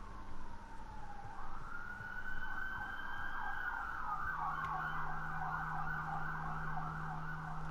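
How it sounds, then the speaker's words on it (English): Emergency sirens in the video game Vampyr, a distant rising-and-falling wail that sweeps up and then cycles steadily, faint beneath a low ambient hum, with no speech. "See if you can hear the sirens."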